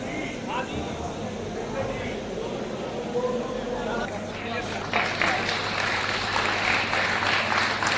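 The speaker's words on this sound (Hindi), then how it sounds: "जोरदार तालियां भाई।" Crowd clapping at a BJP backward-classes rally in Pundri, a steady wash of applause with shouting voices mixed in, growing louder and denser toward the end.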